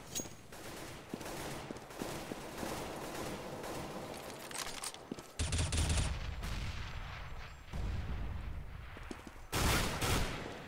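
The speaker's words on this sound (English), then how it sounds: "quite a bit of shots outside going as Waz tries to get a pickle." Rapid rifle fire from a Counter-Strike: Global Offensive match crackles in dense bursts, quieter at first and then louder sustained volleys, with little or no talk in between.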